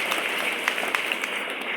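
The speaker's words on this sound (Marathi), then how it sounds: "त्या सगळ्यांच्यासाठी एकदा टाळ्या होत आहेत" An audience claps at a public gathering attended by local officials, a fairly soft, steady patter of many hands with scattered sharper claps, continuous through the short stretch.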